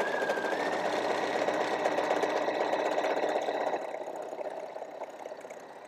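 Sewing machine stitching stretched elastic onto T-shirt fabric for a gathered skirt panel, a steady fast mechanical whir running continuously, then dropping slightly in level toward the end.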